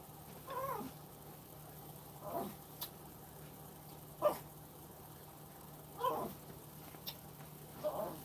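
Cats and dogs call faintly in the background of an indoor room, giving scattered meows, caterwauls and short whimpers at uneven intervals over a steady low hum, with no one talking.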